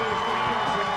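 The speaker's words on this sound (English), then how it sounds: "This Centennial crowd is ecstatic." A home crowd roars at a Centennial versus Stockdale high school football game, a dense, continuous wash of cheering with a commentator talking over it.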